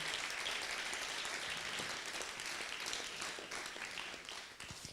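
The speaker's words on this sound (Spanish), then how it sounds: "creo que merece también un fuerte aplauso" An audience at an architecture event applauds, a fairly faint, steady wash of clapping from many hands that thins slightly near the end.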